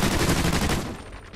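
Rapid gunfire rattles in the video game Warhawk, a loud, dense, close burst of automatic shots that fades toward the end.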